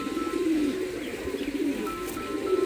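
Young Indian Madrasi pigeons, three-feathered chicks, coo in a soft rolling murmur that rises and falls, nearby and unbroken, with a faint brief chirp near the end.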